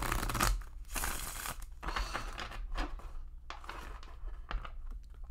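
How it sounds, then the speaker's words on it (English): Sassy Dragon Tarot prototype cards shuffled by hand at a desk, a run of close, crisp riffling and crinkling bursts repeating every second or so, soft in level. "So let's go ahead and shuffle."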